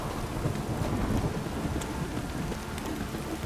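Heavy downpour in the video game The Witcher 3, a continuous loud rain hiss layered over deep rolling thunder rumbling underneath throughout.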